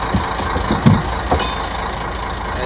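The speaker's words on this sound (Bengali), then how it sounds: "এই দেখো ঘন্টির আওয়াজে স্টার্টটা হয়ে গেল ইঞ্জিনটা" A fishing trawler's engine, started with a bell signal, idles in a steady mid-pitched chug, close and loud, with a few brief knocks and a short bright clank partway through.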